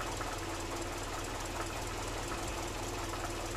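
Mercedes-Benz M102 engine with fuel injection runs after a cold start, a steady, fairly quiet mechanical hum with a fast rhythmic tick, and no one speaking.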